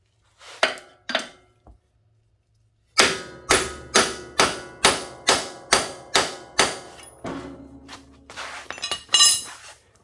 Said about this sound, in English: if it didn't come off by just tapping on it